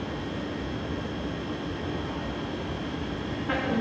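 Steady rumble inside a London Northwestern Railway passenger train bound for Crewe, with a constant broadband roar and faint tonal hum throughout, a slight rise in noise near the end, no talking.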